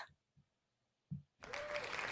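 A computer sound effect of crowd cheering and applause bursts in after a moment of near silence, loud and sustained to the end, preceded by a few faint soft thumps.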